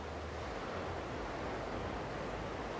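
Sea waves rush against the beach along Side's promenade in the evening, a steady, soft hiss of surf with faint wind, unbroken and even, no voices present.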